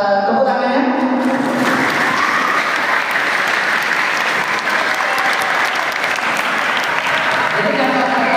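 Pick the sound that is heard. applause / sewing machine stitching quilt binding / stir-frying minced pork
applause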